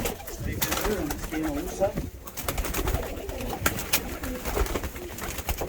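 Yellow pigeons in a coop give repeated low, rolling coos close by, while people talk over them.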